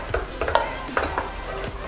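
A spoon stirs baking powder into a cake mixture in a bowl, making several soft close scrapes and light clinks over a quiet steady background.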